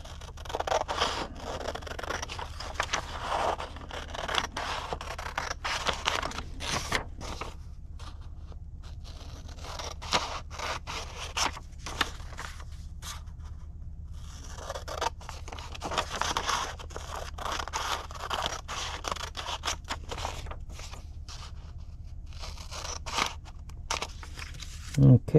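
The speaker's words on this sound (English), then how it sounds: "We're going to take our pattern and cut it out from the paper here." Scissors cut out a paper pattern for a hummingbird mobile. Snipping and rustling come in bursts and pause in between, and someone talks over parts of it.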